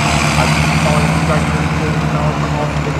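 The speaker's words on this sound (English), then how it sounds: "Both of these vehicles have been refitted with diesel engines." A CVRT Scorpion tank refitted with a diesel engine runs steadily nearby, a loud continuous low rumble with an even drone and no pauses.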